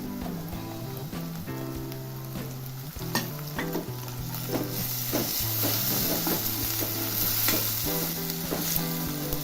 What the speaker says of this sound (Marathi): त्यामध्ये आता मी टमाटर घालणार आहे.